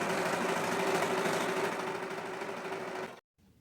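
A sewing machine runs steadily while stitching elastic onto an old house coat being made into a shower wrap, a continuous close mechanical whir with a faint tonal hum that stops abruptly near the end.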